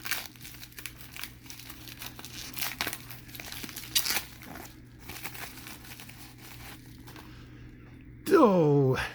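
A tape-sealed mail package of trading cards is unwrapped, with close crinkling, rustling and peeling bursts scattered throughout, and a brief voice speaking near the end.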